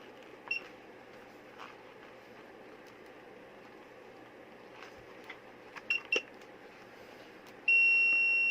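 Multimeter continuity check across the metal screws of a Meiji 3-phase 1HP 220V/440V motor: a few faint clicks and taps from the test leads, then a steady, clear electronic beep that sustains through the final second.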